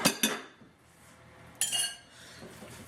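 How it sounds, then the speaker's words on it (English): A utensil knocks and clinks against a bowl while stirring eggs into cauliflower for a pizza crust, two quick metallic taps at the start and another burst partway through, loud and close with no talking. "we are going to stir this until it is mixed well"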